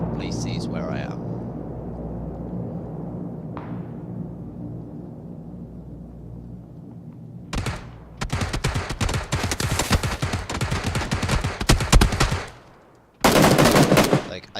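Gunfire in PUBG on PC: after a quiet stretch with a low rumble, bursts of rapid automatic shots crack loudly and closely in a dense volley, then one more short burst; someone talks over parts of it.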